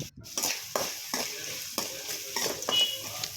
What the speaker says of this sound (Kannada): ಎಲ್ಲ ಹಾಕಿ ಫ್ರೈ ಮಾಡ್ಕೊಳ್ಳೋಣ ಈಗ ರುಚಿಗೆ ತಕ್ಕಷ್ಟು ಉಪ್ಪು ಅರಿಶಿನದ ಪುಡಿ